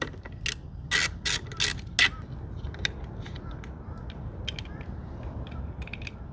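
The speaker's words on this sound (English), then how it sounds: "The first thing we need to do is remove the heel guard. This is a 5mm hex." A hex key removes the heel guard bolts on a Honda Rebel 1100 motorcycle, making a few sharp metallic ratcheting clicks and taps close by, followed by lighter scattered clinks over a quiet background.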